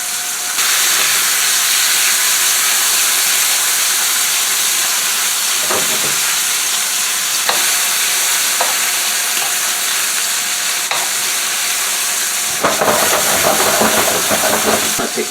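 A New York strip steak sizzles loudly in butter in a pan, a steady close-up frying hiss with occasional sharper crackles and a louder surge near the end.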